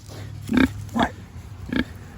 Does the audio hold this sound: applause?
no